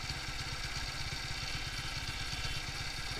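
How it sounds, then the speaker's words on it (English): A small engine idles unevenly while its carburettor is being tuned, a close, steady low thrum of rapid firing pulses with clattery mechanical noise on top and no voices. "listen to the engine, alright? No, see, it's coming and going."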